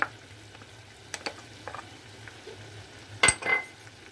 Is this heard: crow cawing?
no